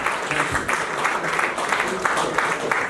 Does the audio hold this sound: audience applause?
yes